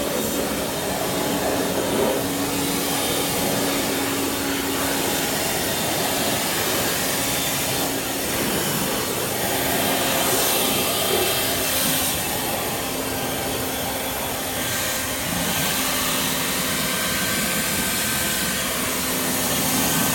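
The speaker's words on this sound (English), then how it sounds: "back with my handy dandy leaf blower" A leaf blower blasts air to dry a car's engine bay, a loud, steady whooshing roar held close and unbroken throughout with no talking.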